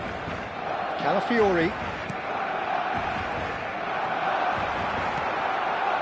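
Stadium crowd from the football video game PES 26, a steady broad roar and murmur of fans sustained throughout, with a commentator's voice briefly calling a player's name over it.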